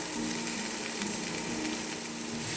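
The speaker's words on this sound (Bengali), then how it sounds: "এবার এটাকে আমি খুব ভালোভাবে ভেজে নেব" Pointed gourd seeds fry in a pan with a steady, even sizzle, close and continuous with no voices over it.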